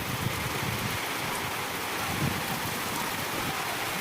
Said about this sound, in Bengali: তাই দেখুন জবরদস্ত বৃষ্টি